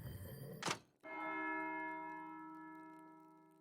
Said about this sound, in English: that's the bell for Sext